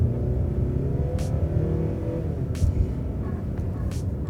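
Naturally aspirated 2.5-litre engine of a Mazda CX-8 drones steadily at low pitch, rising slightly as it revs, heard close and continuous from inside or near the car.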